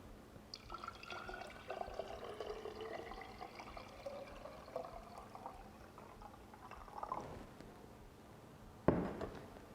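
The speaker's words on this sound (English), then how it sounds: "And then we add water to that." Water poured into a liter-sized jar holding two or three tablespoons of sugar for fermented anise soda, a steady close pour lasting several seconds, with a sharp clink near the end.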